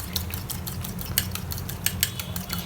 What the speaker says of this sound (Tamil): முட்டை ஆம்லேட்டுக்கு தேவையான உப்பு, மஞ்சத்தூள், அப்புறம் வந்து மிளகுத்தூள் சேர்த்துட்டு இந்த மாதிரி கலக்கி எடுத்து வச்சுக்கோங்க